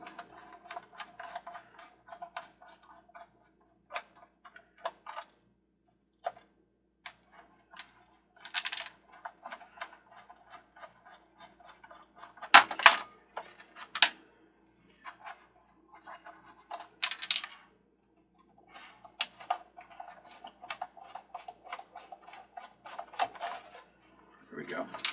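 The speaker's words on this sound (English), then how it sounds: "Now I'm going to unscrew the screws that are in the bottom." Screws are worked out of the bottom of a small device with a screwdriver, producing sparse faint clicks, ticks and metallic rattles in short bursts, with louder knocks and scrapes now and then against a quiet background.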